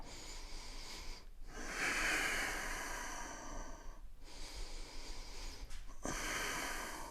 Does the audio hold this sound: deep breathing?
yes